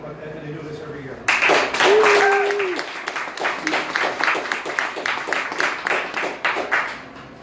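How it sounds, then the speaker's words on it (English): An indoor audience gives a round of applause at an annual car giveaway event, a sudden burst of clapping that peaks early and then thins into scattered claps, with a voice speaking at the start. "I'd like to offer them a good round of applause for what they've done"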